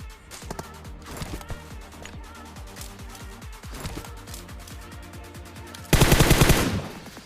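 Gunfire in PUBG Mobile, with enemy teammates shooting from behind during looting: dense, rapid automatic bursts crackle throughout, ending in a very loud, close volley near the end.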